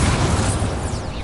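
A Confringo blasting spell explodes in Hogwarts Legacy, a loud, dense fiery burst with a deep rumbling boom that fills the short moment and fades slightly at the end.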